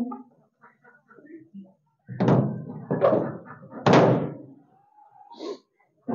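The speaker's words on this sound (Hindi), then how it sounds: "इनका दरवाजा करते हैं अभी" A few heavy wooden thuds and a knock as a chicken coop door is swung shut, with someone speaking nearby between the bangs.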